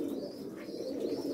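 A pigeon coos in soft, low, throaty murmurs that roll on steadily, close by, with a faint chirp or two above and no talking.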